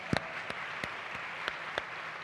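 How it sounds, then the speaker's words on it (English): Light audience applause at a conference session, a thin spread of clapping with several distinct sharp claps close by. "give them a round of applause."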